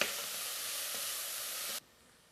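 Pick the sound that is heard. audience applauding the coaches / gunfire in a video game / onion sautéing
onion sautéing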